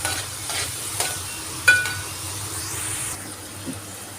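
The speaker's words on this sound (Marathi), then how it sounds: "आता ह्यांना चांगलं परतायचं आहे आपल्याला." A small chopped tomato is sautéed in a pan for egg bhurji masala rice, heard as a continuous frying sizzle with repeated spoon scrapes and one clear clink, close and alone.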